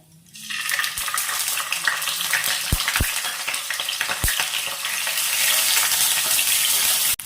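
Ginger paste hits hot oil with cardamom, cinnamon and cloves, bursting into a close, steady sizzle with a few sharp pops and utensil clicks, the frying hiss growing stronger toward the end.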